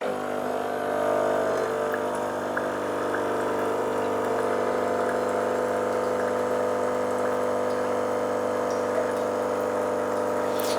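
Nescafe Dolce Gusto Genio S pod coffee machine pumping hot water, a steady loud mechanical hum with a layered tonal drone that holds evenly for about ten seconds.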